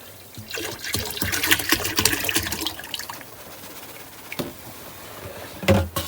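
A marine toilet on a sailboat is pumped into the holding tank, giving a burst of gurgling, sloshing water with rhythmic pump strokes. It fades to a quieter trickle and ends with a final surge, close and fairly loud.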